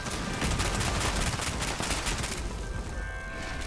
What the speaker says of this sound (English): Is that the new plasma cannon?